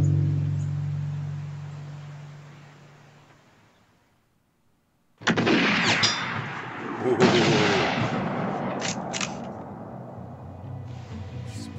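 Gunfire in a western short film, a loud sudden blast cutting in after a quiet moment, followed by a second sharp shot and a few rattling bangs as the sound fades and rises again.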